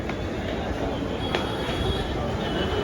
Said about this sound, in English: This is Churchill train coming at 8:11. This is my train.